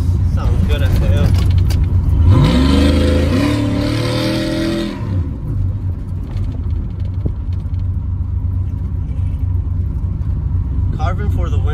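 A cammed 5.3 V8 pickup truck with a new exhaust revs hard and loud, its deep rumble climbing and falling over a few seconds, then settling back into a steady, throaty lope at idle.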